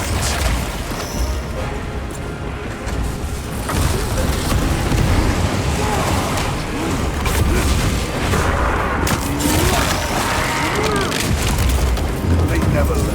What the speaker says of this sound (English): Using flame grenade!